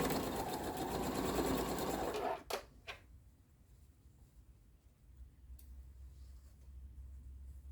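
A sewing machine runs in a steady, fast whirring hum while chain piecing quilt blocks for an interwoven star, then stops abruptly, followed by a few sharp clicks and quiet handling.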